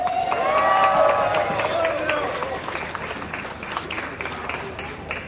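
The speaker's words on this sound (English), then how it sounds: "Round of applause, please" A crowd at a Families Belong Together rally applauds and cheers outdoors, a broad wash of clapping and raised voices that starts loud and gradually fades.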